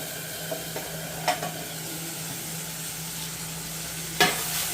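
Tomato gravy sizzles steadily in oil in a pan while a Gujarati corn capsicum sabji cooks, a constant frying hiss with a couple of brief stirring clatters, close and alone without talk.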